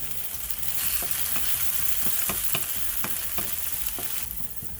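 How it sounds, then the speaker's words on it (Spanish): Onion frying in a pan, a steady close sizzle with repeated light scrapes and taps of a utensil stirring it, no voices. "Y la vamos a freír hasta que la cebolla, la orillita de la cebolla se empiece a ver como poquito quemadita"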